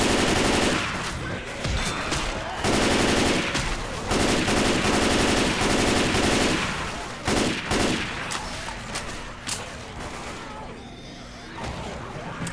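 Gunfire in the video game Left 4 Dead 2, a versus match on the Death Toll campaign: loud, dense bursts of rapid automatic fire with brief pauses, continuing across the whole stretch, with faint speech in the mix.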